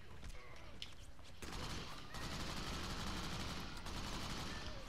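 Gunfire in the Crackdown video game, a dense, sustained fusillade of rapid shots that runs loud and continuous for nearly five seconds, with no speech over it.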